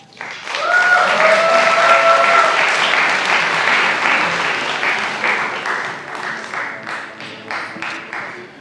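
A crowd applauds student award winners at an awards ceremony, loud and sustained at first, with a brief cheer or whistle early on, then thinning into scattered individual claps toward the end.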